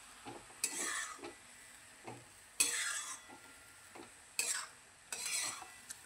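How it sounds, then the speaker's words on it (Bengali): Greens being stirred in a pan give repeated scraping strokes of a spatula, with bursts of soft sizzling between them, near and fairly quiet. "ভালো করে নেড়ে চেড়ে নিলাম।"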